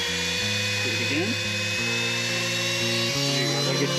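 A mini cordless wand-type vacuum cleaner runs at its boosted high-speed setting, giving a steady, close, high-pitched motor whine with stepped tonal shifts throughout.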